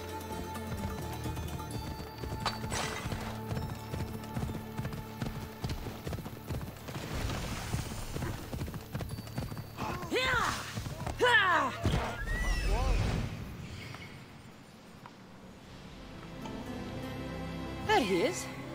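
A horse in the video game Assassin's Creed Odyssey gallops with rapid rhythmic clip-clop hoofbeats and lets out a loud neigh midway, set against game music and speech.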